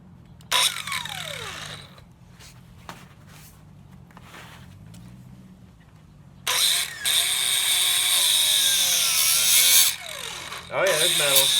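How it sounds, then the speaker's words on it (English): An angle grinder cuts metal while a mamokhorong is being built: a few short bursts at first, then a loud, steady, harsh grinding whine that runs nearly to the end with a brief dip. "Grinder here."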